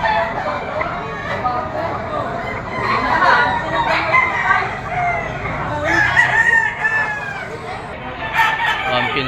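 At a gamefowl sale in Lipa City, Batangas, roosters and stags crow repeatedly, close and distant calls overlapping with clucking against steady crowd chatter and someone speaking.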